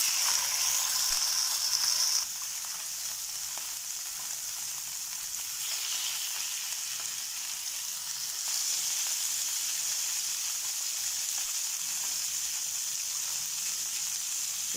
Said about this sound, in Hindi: ऑयल गर्म हो चुका है, अभी इसमें फ़िश ऐड कर देंगे।